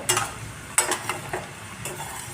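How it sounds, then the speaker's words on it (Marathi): Peanuts fry in hot oil in a pan for crunchy masala shengdane, a close sizzle broken by several sharp scrapes and clinks as they are stirred and turned. "आपण दोन्ही बाजूनी हलवून हे व्यवस्थित तळून घेणार आहोत अगदी असा लालसर कलर येईपर्यंत"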